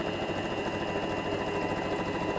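A sewing machine runs steadily while sewing a tote bag with pockets, a close, continuous whirring hum without pause or voices.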